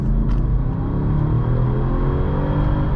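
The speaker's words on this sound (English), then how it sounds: "Nice and powerful sounding engine in this car." A 2015 Mercedes-Benz S550 engine pulls under acceleration as a steady, deep, smooth rumble that stays close and even throughout, with no voices over it.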